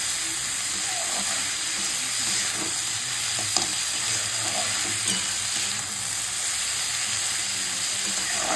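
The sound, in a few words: frying potatoes and onions in a pan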